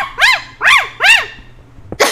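A man imitates a dog barking with his voice, giving three loud, rough woofs at an even pace, close up, followed by a brief sharp burst at the end.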